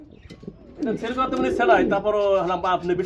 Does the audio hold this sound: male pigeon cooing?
yes